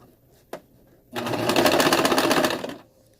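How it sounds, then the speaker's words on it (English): After a brief click, a sewing machine stitches a side seam on a faux fur vest, running steadily for about a second and a half with a rapid, even needle rhythm, close and clear with no voices. "Let your foot down."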